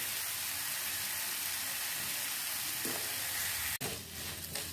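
Meat stir-fried in a pan, with a dense, even sizzle and faint stirring scrapes, then a sharp clatter and a brief dip in the sizzle near the end.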